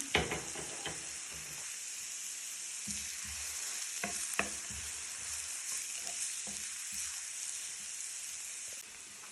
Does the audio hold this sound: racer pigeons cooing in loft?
no